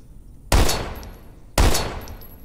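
Two loud, sharp gunshots in a video game, about a second apart, each ringing out and decaying with a long tail.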